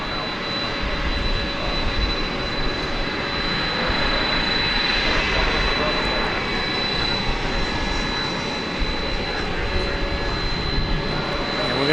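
An airliner taking off at night at DFW, bound for Ontario, California: a steady, fairly loud jet roar with a sustained high whine running throughout, swelling slightly midway.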